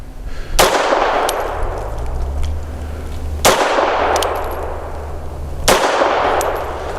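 Three sharp, loud pistol shots from a Grand Power LP380 in .380 caliber, spaced about three seconds apart. Each crack is followed by a brief ringing decay, and no voices are heard between the shots.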